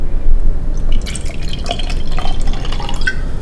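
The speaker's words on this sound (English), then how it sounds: "Let's hit the perfect pour." A drink is poured into a glass at a luxury hotel in Doha, Qatar, giving close, continuous splashing and fizzing with bright bubbly crackle throughout.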